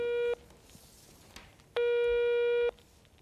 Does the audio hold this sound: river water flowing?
no